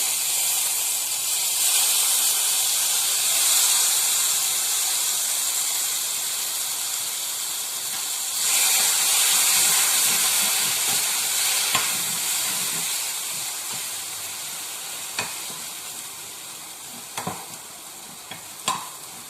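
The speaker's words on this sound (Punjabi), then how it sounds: "ਹੁਣ ਆਪਾਂ ਇਹਦੇ ਵਿੱਚ ਪਾਉਂਦੇ ਆ ਚਟਨੀ ਨਾਰੀਅਲ ਵਾਲੀ ਚਟਨੀ" Coconut chutney poured into a hot crackling tempering sizzles and hisses loudly, a steady frying wash with occasional stirring clicks that gradually settles toward the end.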